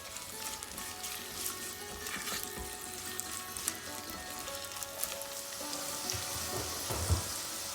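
Garlic and sliced fresh ginger fry steadily in a pan, giving a continuous dense sizzle with soft crackles that swell briefly near the end.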